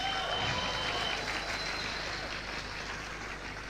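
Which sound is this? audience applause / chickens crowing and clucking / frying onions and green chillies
audience applause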